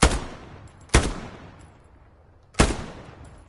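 Gunfire in the Hell Let Loose video game, three sharp loud shots at irregular intervals, each followed by a long echoing decay across an open battlefield.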